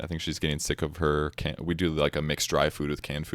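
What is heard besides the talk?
No everyday noises stand out.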